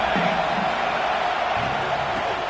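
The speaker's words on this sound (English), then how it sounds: "The crowd is really getting into it." Stadium crowd in a college football video game roars steadily through the final minute of regulation, a loud, continuous wash of cheering with no break, heard alone without commentary over it.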